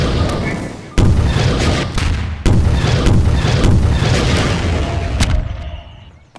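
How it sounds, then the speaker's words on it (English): Heavy gunfire and booming blasts fill Garry's Mod gameplay, loud and dense with sharp onsets at intervals before fading out near the end. "can you able to shoot them all, DJ?"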